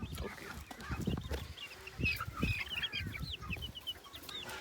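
Chicks on medicine cheep in a cluster of high, quick peeps at close range, with soft clucking and rustling among them.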